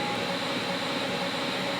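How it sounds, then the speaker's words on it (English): A Xiaomi Roborock S50 robot vacuum runs with a steady, close whirring hum of motor and airflow that holds evenly at the same level for the whole moment, with no voices. "the robot vacuum will start up and clean the entire house using the zones that you've set out in the app"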